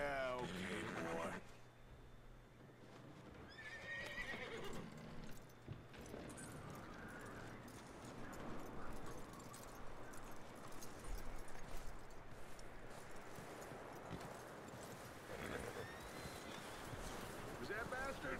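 A horse's hooves clip-clop steadily on the ground in Red Dead Redemption 2, with a brief whinny near the start, low ambient noise and a voice speaking over it.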